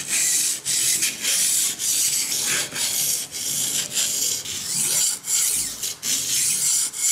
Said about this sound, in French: je vais venir continuer l'affûtage